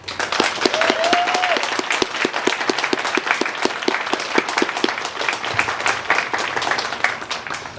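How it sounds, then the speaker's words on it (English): Audience at a Veterans Day ceremony applauds veterans nonprofit organizations, steady loud clapping with sharp individual claps standing out, briefly joined by a whistle early on, sustained throughout. "Audience, please join me with a round of applause for these veterans nonprofit organizations."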